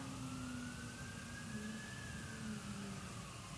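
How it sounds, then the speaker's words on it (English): A distant ambulance siren wails faintly over a steady low rumble of background noise, with no one speaking. "We got an ambulance"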